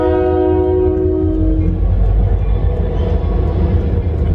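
A train horn sounds steadily for about a second and a half, then a train rolls loudly past nearby with a continuous rumbling rush, near Compton in California.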